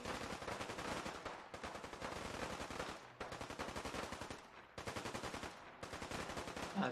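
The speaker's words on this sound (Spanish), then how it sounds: "Cada vez estamos más cerca de los disparos." Rapid bursts of automatic gunfire from the video game Fallout 4, loud and continuous with brief gaps between volleys, dense rattling shots.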